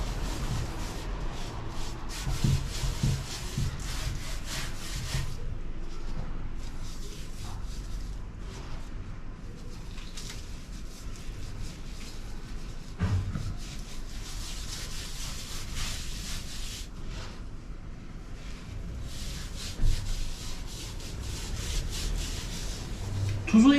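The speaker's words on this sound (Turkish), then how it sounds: "Sonra kaya tuzumuzu alıyoruz. Etimizin her yerinde gezdiriyoruz." Rock salt rubbed by hand all over a piece of meat for homemade pastırma, a steady close gritty scraping and rasping that runs throughout, with someone talking over it at times.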